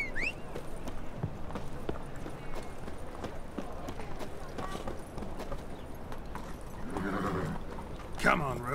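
Geralt's horse in The Witcher 3 video game gallops with steady hoofbeats and brief whinnies, under someone talking over the game audio.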